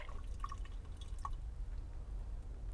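Water trickling and dripping into the cells of a golf cart battery, small bright drips and splashes over a low steady hum, close and fairly quiet.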